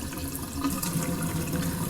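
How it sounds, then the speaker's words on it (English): A paintbrush cleaned of non-toxic paint is rinsed under a running tap, close, steady splashing water flow that swells slightly midway and continues without pause, no voices. "then just rinse that off really well"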